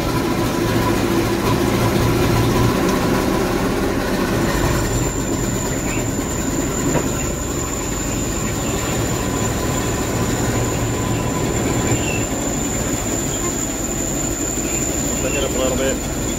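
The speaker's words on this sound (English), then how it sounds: "I'm going to show you how the separator turns on here." A Gleaner F2 combine runs with its separator engaged, a loud, continuous mechanical rumble and rattle with a steady high whine joining partway through, heard close up without a break.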